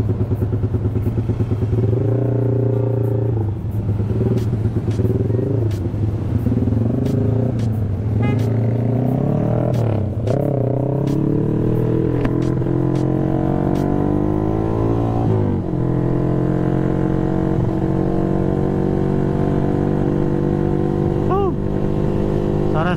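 A Yamaha motorcycle engine hums steadily while riding, its pitch rising and falling through gear changes and accelerations, with occasional clicks and rattles close by.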